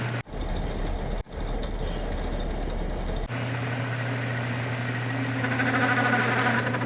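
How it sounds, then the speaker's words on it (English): A small lathe cuts stainless steel with a carbide insert, a steady machine hum and drone running throughout, the tone changing abruptly partway as the cut continues, with no one talking. "Which is a lot to ask this little lathe when you're cutting stainless,"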